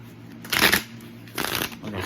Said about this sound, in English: So what I'm gonna do is I'm gonna pull some cards today